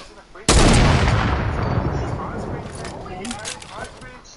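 A single loud gunshot in Fortnite cracks out sharply, then a long noisy decaying tail of game sound effects follows, close and dominant.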